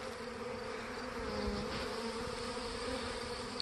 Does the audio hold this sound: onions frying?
no